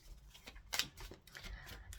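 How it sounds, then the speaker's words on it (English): A deck of oracle cards is given a quick reshuffle, with soft papery riffles and one sharper flick near the middle, faint and close with no talking. "I'll give them a little bit of a reshuffle."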